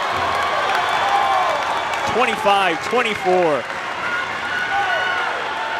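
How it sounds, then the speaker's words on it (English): A gym crowd at a boys high school volleyball playoff match between Milford and Medfield cheers and applauds steadily throughout, with whoops rising in the middle and a commentator talking over it. "The crowd loves it. They are going insane."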